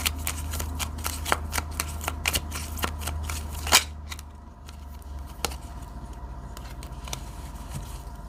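A deck of 65 oracle cards is shuffled up close, giving quick crisp riffling clicks and flutters in irregular bursts over a steady low hum, with a louder snap midway and no talk.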